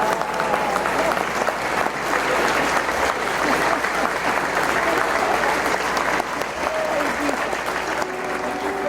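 Sustained applause fills a Mexican Senate chamber as a crowd claps steadily and loudly throughout, with faint voices mixed beneath the clapping.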